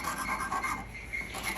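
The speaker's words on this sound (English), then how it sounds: "filing and, you know, getting the edges all tidy" A file rasps along the metal edges of taped-together repoussé earring pieces in quick, even, close strokes, with no talk.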